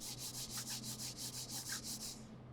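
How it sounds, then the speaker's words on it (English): A Razer Viper V2 Pro mouse slides back and forth on an Artisan FX Zero pad, giving a steady rhythmic scratchy rubbing, about a dozen quick even strokes, close and fairly quiet, with no speech. "let's do a sound test on the Viper V2 Pro."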